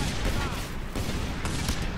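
Rapid gunfire rattles in Just Cause 2, a dense burst of overlapping shots from nearby that keeps going for the full two seconds under game noise.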